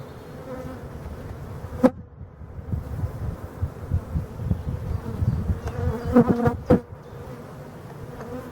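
Honeybees buzzing densely around an opened hive full of honey and drone brood, a close, continuous drone broken by a few sharp frame clicks and knocks.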